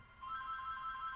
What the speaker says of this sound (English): The home phone. Someone is calling.